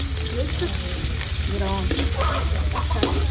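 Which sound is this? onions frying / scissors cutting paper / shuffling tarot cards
onions frying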